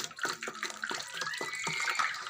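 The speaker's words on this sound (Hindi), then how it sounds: "तो इसमें पानी डाल के" Water pours into thick falsa fruit juice to thin it, a steady splashing, gurgling stream close by that runs throughout.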